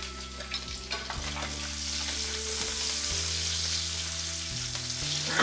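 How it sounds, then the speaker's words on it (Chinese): Scallion, ginger and garlic frying in hot oil in a wok, a loud, steady close-up sizzle with occasional stirring scrapes throughout. "再补加一点油，把葱姜蒜爆香"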